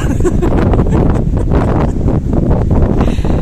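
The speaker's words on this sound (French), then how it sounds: "Il y a beaucoup de vent." Heavy wind buffeting the microphone, a constant loud rumbling roar with gusty surges throughout.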